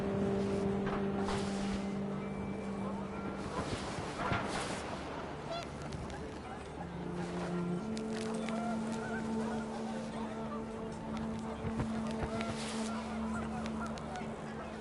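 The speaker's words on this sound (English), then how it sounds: "The wind picked up, and panicked geese appeared and quickly went." Panicked geese honk in the video game What Remains of Edith Finch, scattered calls over steady wind-like ambience and sustained tones, moderately loud and continuous.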